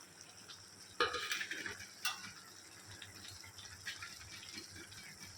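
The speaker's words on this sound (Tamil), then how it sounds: "எல்லா பக்கமும் மசாலா பொடி சேர்றாப்புல கறியும் மூங்கல் குருத்தியும் நல்லா கலக்கிக்கலாம்." Chicken, bamboo shoots, masala powder and rock salt are stirred together in a pan: two distinct spatula scrapes stand out over a faint, quiet sizzle that fades into a low background hiss.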